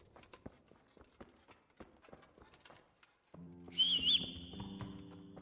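Horse hooves clip-clop in Kingdom Come: Deliverance, a steady run of crisp, close taps for about three seconds, followed by a short whistle and a louder droning tone with a brief overlaid sound.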